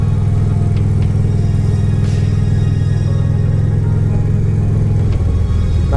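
A Harley-Davidson Road King motorcycle engine on a test ride, a loud steady low rumbling drone with continuous wind noise, no talk.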